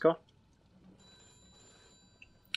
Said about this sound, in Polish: No to odbieramy telefon i zobaczymy, co nas czeka.